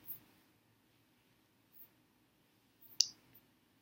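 A few faint, sharp computer mouse clicks, spaced apart in an otherwise quiet room, with one crisper click standing out near the end.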